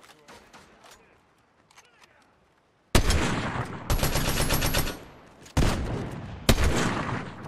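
Gunfire in the Fortnite video game during a Builds match: after a quiet stretch with soft background sounds, loud close bursts of shots arrive in several abrupt, dense volleys, each a sharp crack that tails off.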